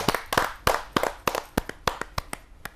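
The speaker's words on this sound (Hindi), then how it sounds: "जोरदार ताली के साथ हम उनका स्वागत करते हैं" Audience clapping to welcome a poet at a Hindi poetry gathering: a handful of sharp, distinct hand claps in an irregular rhythm, fairly close, with a faint murmur of a voice in the gaps early on.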